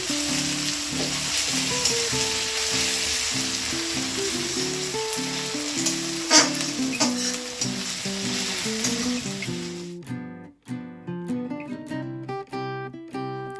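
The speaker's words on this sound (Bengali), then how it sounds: "পেঁয়াজগুলো দিয়ে দিলাম, পেঁয়াজগুলো ভাজা ভাজা হোক" Onions sizzle and crackle steadily as they fry in a pan under background music for about ten seconds, then the frying cuts out and only the music continues.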